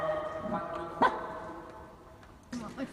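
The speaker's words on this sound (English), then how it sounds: "with the exception of one animal's bark chorus" Dogs at a pet blessing event give a short, loud bark over a crowd's murmur, and a second burst of barking follows near the end.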